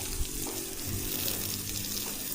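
Water gushing from a tank hose at a construction site, a steady broadband rush that runs continuously and fairly close throughout, with no talk over it.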